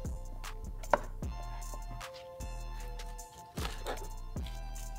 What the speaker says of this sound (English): We're gonna take the leg meat, basically trim off where we can.